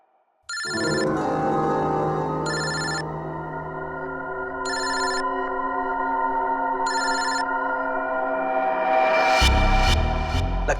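A telephone rings in a tense TV crime-drama scene: four evenly spaced, bright electronic ring bursts sound over a sustained musical drone, followed by a louder swell of noise.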